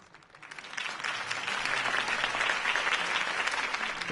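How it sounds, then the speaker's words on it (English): A crowd breaks into applause, swelling quickly from a few claps into steady, sustained clapping that holds to the end. "could have heard that applause"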